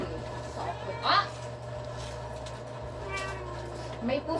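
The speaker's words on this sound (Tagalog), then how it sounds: "May pusa doon sa pandesalan na kulay black, tapos orange." A black and orange cat near a bread shop meows a few times, short clear calls, while people talk nearby and a steady hum runs underneath.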